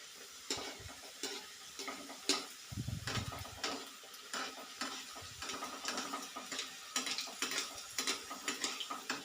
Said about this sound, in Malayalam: ഇനി ഓരോന്നായിട്ട് വറുത്തെടുക്കാം